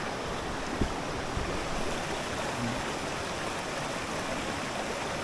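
Flowing water of the Kawatan River, a continuous broadband rush with a couple of faint knocks, steady and close throughout.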